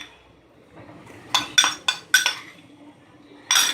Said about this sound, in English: we will give it a little bit of a stir